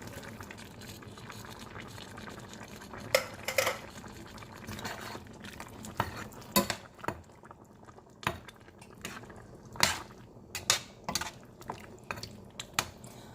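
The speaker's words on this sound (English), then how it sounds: "I'm gonna put in my butter bean now" Butter beans drop into a simmering Jamaican cow foot pot with soft splashes and clinks of a spoon against the pot, over a low bubbling background, close and fairly quiet.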